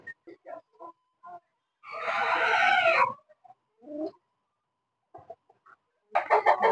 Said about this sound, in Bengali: এখানে একজোড়া আছে মরগ এবং মুরগি এবং এদের বাচ্চা